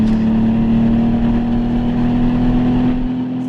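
Lotus Omega with a 3.6-litre 24-valve twin-turbo straight-six engine holding a loud, steady drone close by, its pitch climbing slowly and evenly, with no talk over it.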